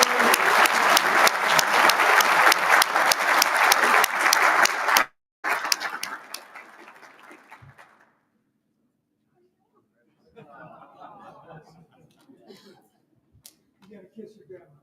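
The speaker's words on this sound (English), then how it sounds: "Round of applause." At the MCA Installations & Logistics awards dinner, the crowd claps loudly for about five seconds as an award is accepted. The applause then thins and dies away into quiet, with faint voices and murmurs near the end.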